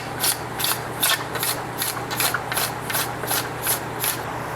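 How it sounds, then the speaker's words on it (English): A sharp metal scraper rasps along a ski sidewall to take off excess glue. About a dozen short, even strokes run in a steady rhythm, each one a close, bright scrape. "So we're gonna take a metal scraper, like this one here."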